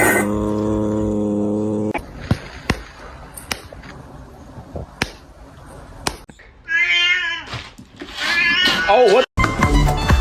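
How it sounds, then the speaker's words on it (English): Cats yowl and meow in a rising, wavering pattern near the end, mixed with sharp clicks and thumps, while a person talks over much of it. "the cats are doing something stupid again"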